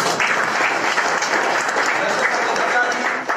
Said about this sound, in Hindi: हम चाहेंगे इनके लिए बड़ा जोरदार ताली